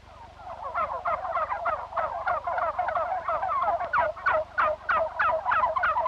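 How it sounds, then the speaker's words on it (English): Young bronze turkeys gobble continuously in a farm turkey yard, a dense chorus of rapid, warbling calls overlapping loudly and close throughout. "These are young bronze turkeys."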